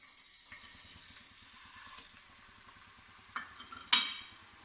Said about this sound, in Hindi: ये देखिए व्यूअर्स, कढ़ाई में मैंने ऑयल डाल के उसको गर्म कर लिया। अब मैं इसमें लहसुन और प्याज का पेस्ट जो है वो डाल देती हूँ।